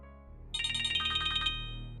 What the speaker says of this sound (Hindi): तुम्हारा फोन बजा, go ahead pick it up.